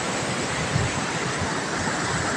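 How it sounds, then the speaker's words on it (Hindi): Fast-flowing water of the Kuju river near Chaibasa, a dense, steady rushing roar with no break, fairly loud and close. "तो चलिए वहाँ पर नहाएंगे और बहुत तेज धारा है गाइस"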